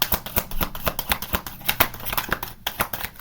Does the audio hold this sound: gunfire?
no